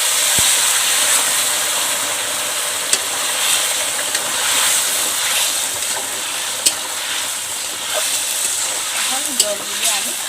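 Water poured into a hot pan of potatoes fried with salt and turmeric for a village-style desi chicken curry gives a steady, broad steamy hiss. It holds level for about ten seconds, with a few faint clicks and knocks.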